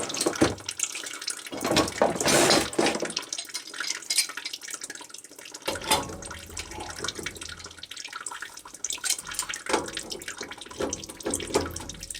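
Water drains from a plumbing pump during winterizing, a steady splashing, gurgling flow with louder surges and trickles, close and alone without talk.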